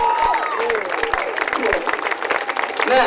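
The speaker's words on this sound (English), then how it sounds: "Give them a nice big round of applause there." Audience at a live magic show breaking into applause, dense clapping and a few cheers rising and falling, with a voice talking over it.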